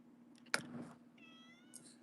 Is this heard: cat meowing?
yes